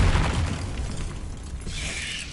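A Confringo spell blast in Hogwarts Legacy, a dense booming explosion with a crackling, shattering burst that opens loud and decays into a rumbling wash, heard up close with no voices.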